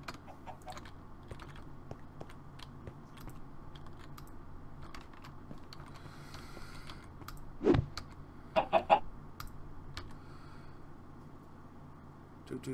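Minecraft chickens give a few short, faint clucks midway through, set against quiet background noise and scattered keyboard clicks.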